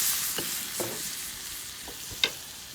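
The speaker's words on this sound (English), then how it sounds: "allow this to cook down into a sauce. The onions will brown, the tomatoes will cook down" Onions and tomatoes cook down in a 15-inch carbon steel paella pan on a grill, a faint, steady sizzle with a few quiet stirring taps and one sharp clink.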